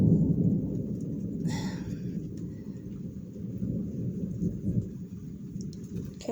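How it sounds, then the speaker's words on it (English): Deep, rolling thunder rumbles continuously through the whole stretch, a steady low roar outdoors with a brief brighter crackle near the start, loud and with no voices over it. "Sorry for the thunder"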